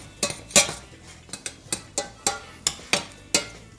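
Churro dough scraped off the bottom of a pan in about a dozen separate, close strokes, each a sharp metallic scrape at a steady, unhurried pace.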